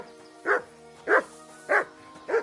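Mats the dog in Kingdom Come Deliverance 2 barks four times in an even, spaced rhythm, each bark clear and fairly close over a low background hum, with no talking.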